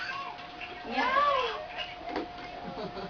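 A single drawn-out meow rises and falls over a steady hum, with faint background chatter from people nearby.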